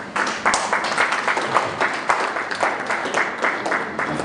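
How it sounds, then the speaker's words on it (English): Audience clapping at a doctors' workshop at Soroti University, a moderate burst of applause from a medium-sized group that holds steady for several seconds. "So, a round of applause for the introduction session."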